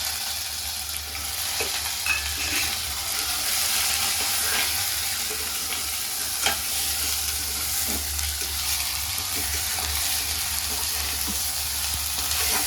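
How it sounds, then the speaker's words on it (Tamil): Quail frying in oil with ginger garlic paste, a steady close sizzle with a low rumble underneath and occasional soft stirring scrapes, continuous and even throughout, with no talking. "நல்லா காடை இஞ்சி பூண்டு விழுதில் ஃப்ரை ஆகட்டுங்க."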